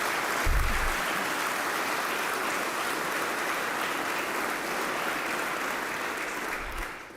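An audience applauds at the 2023 inauguration of Arkansas Governor Sarah Huckabee Sanders: sustained, even clapping from a large crowd, loud and steady throughout, with no voices over it.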